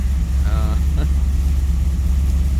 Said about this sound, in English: I'd say we're idling a little rich there,